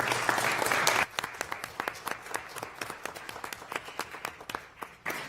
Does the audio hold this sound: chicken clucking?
no